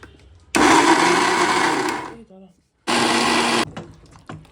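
Boiled onions ground into a paste in a kitchen blender, running loud and close in two bursts, a long one and a shorter one, with a brief pause between them.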